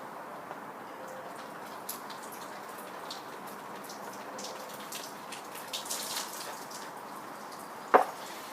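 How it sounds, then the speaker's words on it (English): Excess soaking water is poured off sweet pea seeds that have soaked overnight, giving a faint, steady trickle and drip of water, with a short louder splash near the end and no talking. "So I just pour off the excess water."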